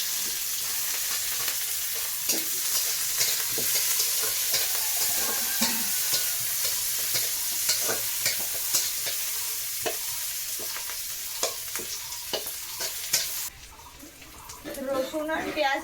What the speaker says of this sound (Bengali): রসুন আর পেঁয়াজ হালকা ভাজা করে নিয়েছি